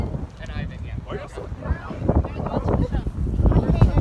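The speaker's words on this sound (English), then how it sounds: "Oh god, it's super windy" Strong wind buffets the microphone in a steady, gusty roar throughout, with a voice speaking beneath the rumble.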